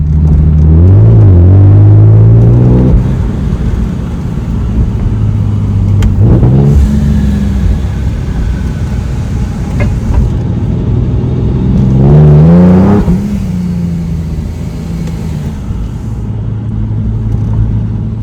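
A supercharged Nissan 370Z engine while cruising gives a steady, loud mid-range drone that swells into two rising rev sweeps, one early and one about two-thirds through, with no voices.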